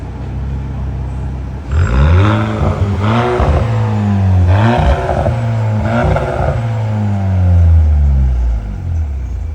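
A Cupra Formentor 1.5 TSI with a remote-controlled performance exhaust valve kit revs up and down repeatedly, loud and close, with a deep throaty exhaust rising and falling over several seconds.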